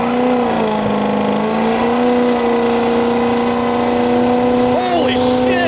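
A 1200-horsepower 6.0L Powerstroke truck accelerates hard on a drag run, its engine droning loud and steady with rising pitch through gear changes, and voices are audible under the roar.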